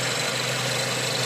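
The 1.6-litre 16-valve petrol engine of a 2008 Renault Kangoo idles steadily at close range, a constant hum with faint knocking texture and no voices.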